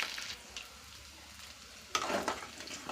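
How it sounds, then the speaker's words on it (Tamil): About fifteen garlic cloves roast in hot oil with a little fenugreek, giving a soft, steady sizzle that is faint and close. A sharper scrape of stirring breaks in near the end. "பூண்டு நல்லா ரோஸ்ட் ஆகிடுச்சு."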